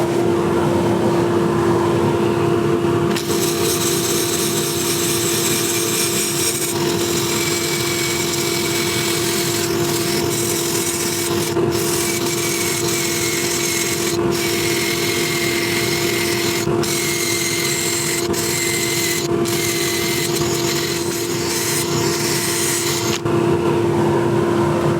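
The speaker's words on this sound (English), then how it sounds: "To clean up the bark is a little bit of 180 on a drill, just turn on the dust extractor" A drill with 180-grit sandpaper whirs steadily while sanding bark off wood, with a constant dust extractor hum underneath and brief pauses; no talking.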